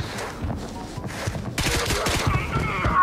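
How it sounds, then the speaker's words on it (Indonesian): Rapid gunfire in Arena Breakout, dense bursts of shots cracking from a middle distance, growing louder and more continuous toward the end, with no voices over it. "banyak banget tuh ngeluarin peluru"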